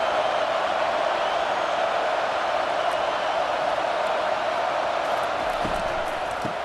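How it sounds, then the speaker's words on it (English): A dense, steady roar from a large stadium crowd in the College Football 25 video game, loud and unbroken throughout with no clear individual voices. "This crowd knows they have to bring it in big moments"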